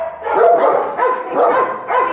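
Several dogs bark in a noisy group at a dog shelter in Valencia, loud and close, in repeated bursts of overlapping barks and yips with no talk.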